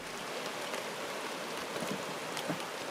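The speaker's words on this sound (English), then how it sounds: "It's been raining for a couple hours." Steady broadband rain falls at a truck-bed campsite, an even close wash of drops with faint scattered taps and no voices.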